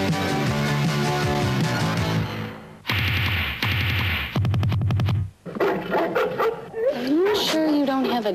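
A dog barks in a 1984 film trailer for Ghostbusters, with a few yips and barks mixed into loud trailer music, sudden cuts and voices speaking.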